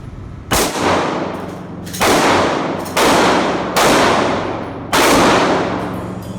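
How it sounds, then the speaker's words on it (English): Police recruits fire pistols at an indoor shooting range: five loud, sharp reports spaced about a second apart, each ringing off and decaying through the enclosed room. "new recruits will shoot their pistols at targets as far away as 25 yards"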